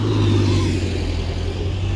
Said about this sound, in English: One of their little buses that they acquired.